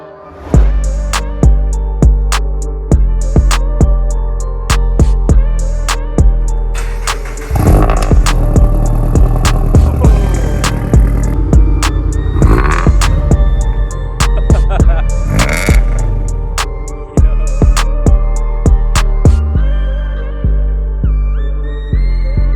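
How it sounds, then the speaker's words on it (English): A supercharged Subaru BRZ with a valved catback exhaust, valves closed, revs loudly and up close in repeated rising bursts that fall away, over a steady droning idle, with no talking. "Let me give you guys a quick rev with the valves closed."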